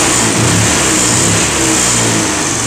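Hero Pleasure Plus BS6 scooter engine held at a steady medium rev, a continuous close buzzing drone with a slight rise and fall, no talking.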